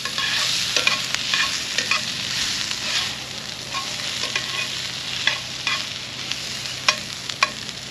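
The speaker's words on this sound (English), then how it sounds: "we got some onions and peppers in the cast iron" Onions and peppers fry in a cast iron pan at a camping stop, sizzling steadily up close while a utensil clinks and scrapes as they are stirred.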